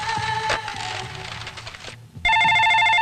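A telephone rings with a bright, repeating electronic ring, first partly under other background sounds, then after a brief pause returning louder and continuous.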